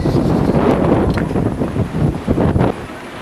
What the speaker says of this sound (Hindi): बहुत जोर से हवा चल रही है